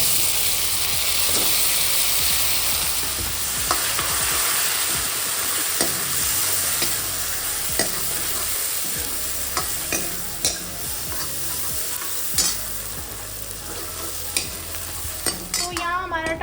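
Tomatoes frying with cooked onions in a pan for Rajasthani dal, a steady broad sizzle running throughout with scattered scrapes and clicks of stirring, louder clatter near the end, no talk.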